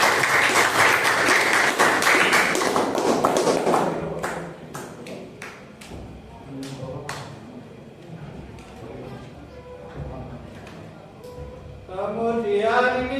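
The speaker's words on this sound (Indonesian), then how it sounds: "Beri tepuk tangan untuk kelompok 2." Classroom applause from a group of students, dense clapping for the first four seconds that then thins into a few scattered claps, with children's voices chattering underneath and rising again at the end.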